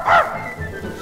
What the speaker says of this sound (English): Gallipoochie barks to you.